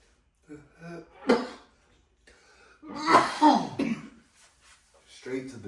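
Several harsh coughs and throat clearings spread out with short gaps, close to the microphone, with a voice mixed in.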